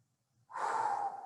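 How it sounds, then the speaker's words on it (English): A single deep breath, drawn in sharply after a moment of quiet and then held as a breathy rush, taken during an arm exercise with a PKnot. "Again, deep breathing"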